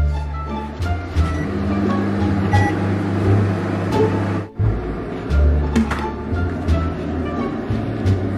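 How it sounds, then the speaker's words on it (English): A microwave oven hums steadily while an egg cooks inside, a loud, close drone with rattling overtones and a brief dip partway through, with no clear talking. "Put it in the microwave."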